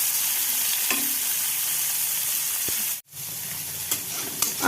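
Onion and tomato frying in a pan, a steady broadband sizzle with a few stirring scrapes and a brief dropout near the middle, no voices.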